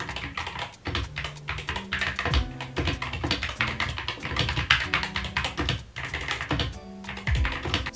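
A wireless keyboard paired with a MacBook is typed on quickly and steadily. The keys make dense, close clicks and taps that go on throughout without a break.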